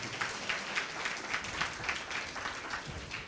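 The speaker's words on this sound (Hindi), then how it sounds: "तालियां बजा के प्रभु का धन्यवाद।" A church congregation claps together in thanks, a steady wash of many hands heard from within the room, moderately loud with a loose rhythmic pulse and no voices over it.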